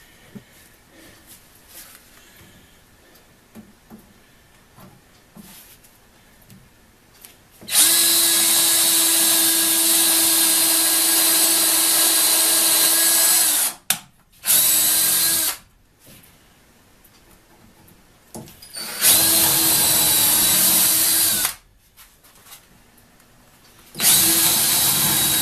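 Power drill boring into a wooden basement workbench top, loud whining bursts that start and stop in several runs of a few seconds each, separated by quiet pauses with faint background noise.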